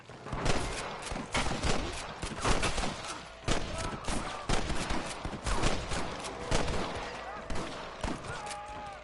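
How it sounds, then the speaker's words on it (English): Gunfire in the Red Dead Redemption video game: dense, repeated loud shots and volleys crack in irregular bursts throughout, layered over a noisy battle scene. "I can hear more gunshots."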